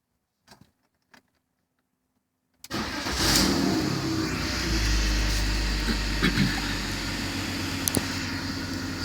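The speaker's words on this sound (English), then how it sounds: "So let's start the car and focus on that part." A BMW car engine cranks and catches after a couple of faint clicks in silence, then settles into a steady, close idle with a low rumble and occasional small rev bumps.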